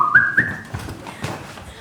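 A single rising whistle sounds during a stage musical of Peter Pan, a short bright tone near the start with soft stage rumble and shuffling after it.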